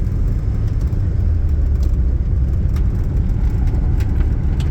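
A 1987 Honda Civic Wagovan RT4WD drives along after shifting into third gear, its engine giving a steady, close, low rumble and whir with no break through the whole stretch.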